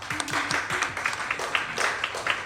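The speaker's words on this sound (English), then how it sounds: "I will just ask a round of applause." A webinar audience gives a round of applause, with scattered clapping at moderate, even loudness lasting a couple of seconds.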